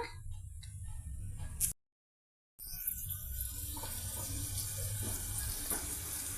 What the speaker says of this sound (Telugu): ఉప్పు పసుపుతో మన డ్రమ్ స్టిక్ పీసెస్ ఈ విధంగా బాయిల్ అవుతున్నాయండి